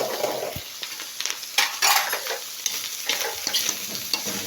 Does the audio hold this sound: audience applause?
no